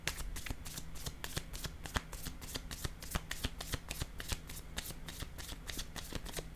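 A deck of tarot cards is shuffled and handled up close in a rapid, steady flurry of crisp flicks and riffles, followed by a card being laid down, with a faint hum underneath.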